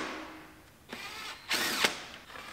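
A power tool drives bolts to secure the dash of a 2015 Toyota RAV4 during a rebuild, heard as two or three short, close whirring bursts separated by quiet gaps, with no talking.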